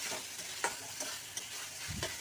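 Chopped banana stem fries as its water cooks off, a low steady sizzle with a few light stirring scrapes and taps. The scrapes come at irregular intervals and no one speaks.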